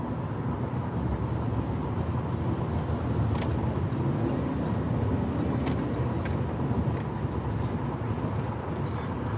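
Steady low road rumble and engine drone from inside a moving Chevrolet Traverse, loud and continuous, with faint occasional clicks and no speech.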